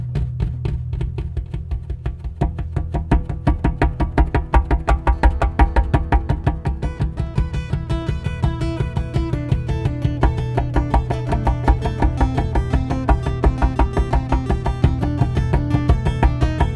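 Guitar with an echo effect played at 1.5 times delay, steady rapid repeating plucked notes forming a dense rhythmic pattern, close and continuous throughout.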